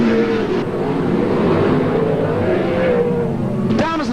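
Sprint cars race in a New South Wales championship qualifying round, a steady loud roar of engines throughout with a nearer car rising in pitch as it passes near the end.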